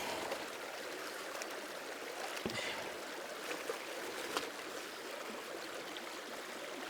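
Gravel is swirled in a pan in creek water, making a steady, soft rushing and swishing of water with faint scattered clicks, heard close and continuous.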